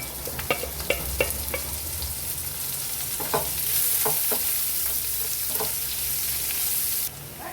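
Chopped onion frying in hot oil for bhindi masala, a loud steady sizzle with scattered clicks and scrapes of stirring, no talk.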